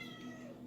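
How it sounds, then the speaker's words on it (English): A domestic cat meows indoors, one short, faint, drawn-out call with no talking over it. "my cat's just meowing all over the place"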